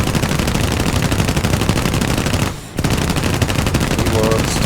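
Rapid, continuous aircraft machine-gun fire from an H-81A-2 in War Thunder air arcade battles. It is a loud, dense rattling burst with a brief pause midway, then firing resumes, while a voice talks faintly underneath.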